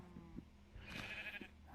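Sheep bleat in the video game Minecraft, one drawn-out wavering bleat rising over soft game background noise, with faint clicks around it.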